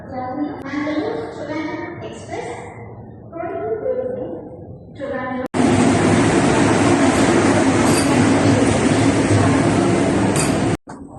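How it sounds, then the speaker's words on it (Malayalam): People talk briefly, then a loud, steady rumble of a train fills Thiruvananthapuram railway station, with rattling wheels and a roar that cuts off abruptly. "ഇതാണ് തിരുവനന്തപുരം റെയിൽവേ സ്റ്റേഷൻ ഇപ്പം തിരക്കൊന്നുമില്ല"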